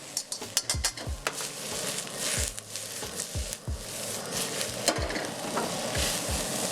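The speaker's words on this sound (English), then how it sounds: "Use your tongs to get anything that sticks off the bottom of the wok." Vegan Sichuan stir-fry of bell pepper, mushroom and tofu tossed with tongs in a hot wok, giving a steady sizzle and fry with repeated metallic scrapes and clacks of tongs against the pan, close and busy.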